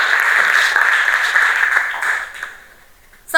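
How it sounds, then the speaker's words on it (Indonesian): A classroom of students claps together in a steady patter for a couple of seconds before it tapers off and fades. "tepuk tangan untuk kalian semuanya"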